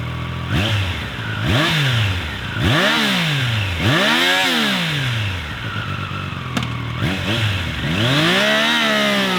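A 2024 Triumph Daytona 660 sport motorcycle engine revs hard in repeated rising-and-falling bursts, about five sharp throttle blips, loud and close with no talking.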